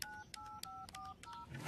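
A telephone number is keyed in to call a school: a quick series of DTMF dial tones, each a short, clear beep, about six or seven presses in an uneven rhythm, close and alone with no talking.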